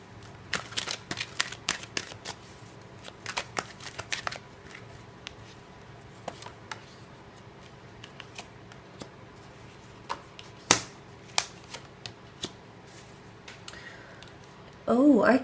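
Tarot deck shuffled by hand for a reading, a run of soft, quick card flicks and taps early on, then sparser slaps of cards spaced out under a quiet room hum, close and gentle.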